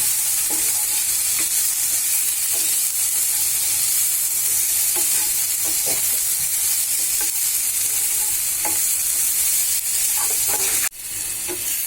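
Coriander leaves and onion fry in a pan for rui fish bharta, giving a loud, constant sizzle with scattered stirring taps that drops off abruptly near the end.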